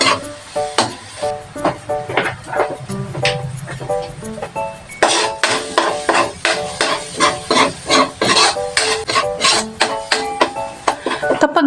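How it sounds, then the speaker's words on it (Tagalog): Minced garlic sautéing in a pan for garlic kangkong, with a steady run of scraping, clinking stirs over a faint sizzle and a voice speaking now and then. "Isunod na igisa ang bawang."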